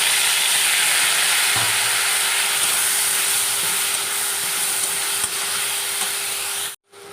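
Saag leafy greens sizzle steadily in a hot pan, a continuous loud hiss with a few soft stirring knocks, cutting off abruptly near the end.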